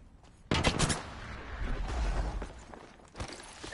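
Gunfire in the battle royale video game Apex Legends erupts abruptly as a loud, close burst, continues as a sustained rattling volley with shattering crackle, then dips before a second sharp burst near the end; no voices.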